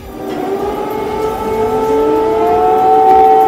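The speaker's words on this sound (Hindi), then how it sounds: "राजधानी कीव और दूसरे शहरों में अलर्ट जारी कर दिया गया और वहां लगातार सायरन बजते रहे।" Air raid sirens wail in a Ukrainian city during a drone attack alert, a loud, sustained rising tone with overlapping siren pitches that swell and hold steady, alone without voices.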